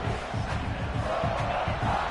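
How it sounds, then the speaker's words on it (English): A dense football stadium crowd roars and cheers steadily, a loud continuous wash of voices with no letup. "This crowd bringing the energy and noise early."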